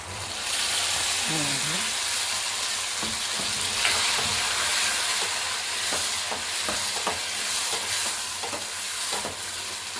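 Tomato paste goes into a pan of frying garlic gravy, a South Indian poondu kuzhambu. A steady sizzle runs under a series of soft stirring scrapes and taps, all close and moderately quiet.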